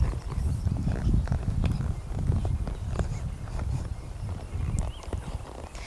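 A horse at a sitting trot sends up a steady, even clip-clop of hooves on the ground, close and fairly loud, continuing throughout.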